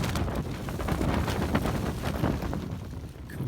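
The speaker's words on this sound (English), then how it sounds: "Rain and really strong gust winds." Strong gusting wind buffets a small tent during a night of rain on a coastal wild camp, a rough, continuous roar with surges and rumbling microphone buffeting.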